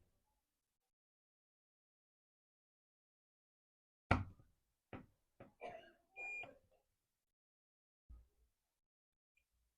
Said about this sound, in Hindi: देख सकते हैं बीप का साउंड आ रहा है मीटर में